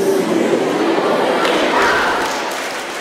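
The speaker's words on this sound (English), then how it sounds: "Still a reserved clap" An audience at a BETT 2014 education presentation gives a steady, reserved round of applause, a dense even patter of clapping that holds for a few seconds and then slowly fades.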